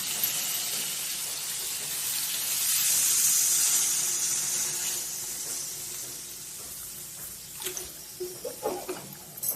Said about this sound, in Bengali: মশলাটা আমার ভালো করে কষা হয়ে গেছে। এবার আমি জল দিয়ে দেবো।